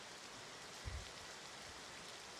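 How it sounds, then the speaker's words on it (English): Steady rain patters on bamboo roofs, a dense continuous hiss of drops with a brief low thump partway through, even in level and heard alone without speech. "the sound of the rain still kind of pattering all around on the bamboo roofs"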